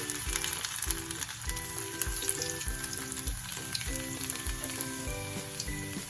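Garlic fries in oil with a panch phoron tempering for masala bhindi, a close, continuous crackling sizzle with a few soft stirs and a faint rhythmic low thumping beneath, and nobody speaks.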